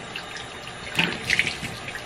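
Water pours steadily from a shower for a couple of seconds, a continuous hiss with a few brief splashy bursts as something passes through the stream.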